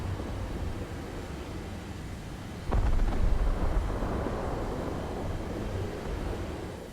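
Enemy ground guns firing at an A-4E attack jet in War Thunder: a sudden heavy boom and rumble over steady jet and wind roar, followed by a sustained, broad rushing noise.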